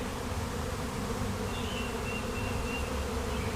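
A swarm of honey bees out in a bee yard, a dense, steady buzzing drone that fills the whole clip at close range with no break and no voices over it.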